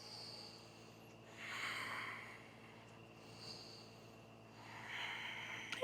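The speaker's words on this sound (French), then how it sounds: "Ici, on prend 2 longues respirations." Two long, slow breaths during a sun salutation yoga flow, each a soft airy inhale and exhale swelling and fading, close but quiet over faint background noise, no speech.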